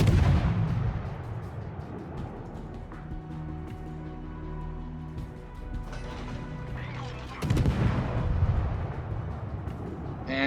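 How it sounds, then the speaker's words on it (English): Naval guns firing in World of Warships from a Hatsuharu destroyer, heavy booming salvos with rumbling decay, loud and close, one large blast near the end, with talk over the battle. "Just going to continue to shoot as long as I can shoot."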